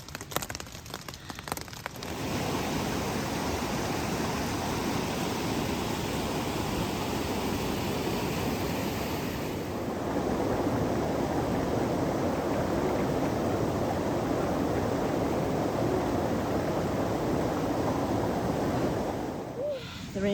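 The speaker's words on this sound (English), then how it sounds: "Here comes the rain." Steady rain drums on a tent along the John Muir Trail in the Sierra, a dense continuous patter close by that thickens after a brief lull midway and keeps going without pause.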